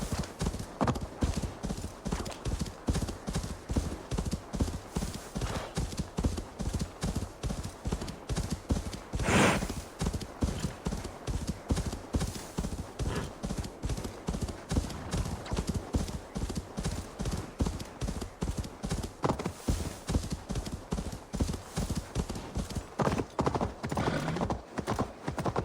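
Horse hooves galloping in Assassin's Creed Valhalla, a fast, steady clip-clop of hoofbeats running throughout, fairly close, with a brief burst of wind or movement near the middle and game music faintly beneath.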